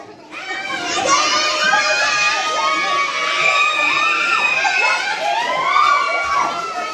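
Family members and children shout, squeal and cheer while swimming together, a loud, continuous, overlapping crowd of excited young voices close by throughout.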